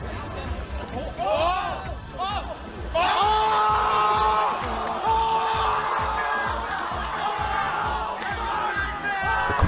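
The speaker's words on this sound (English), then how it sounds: "The crowd erupts into a frenzy and swarms Albert" A crowd at a Super Smash Bros. Melee tournament erupts into frenzied cheering and screaming after a match-deciding upset, a loud, dense roar of whoops and shouts that builds and holds.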